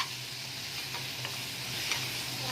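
Spice masala sizzles and is stirred in a wok for egg biryani, giving a steady quiet frying hiss with a few soft scraping strokes and a low hum underneath, with no voices.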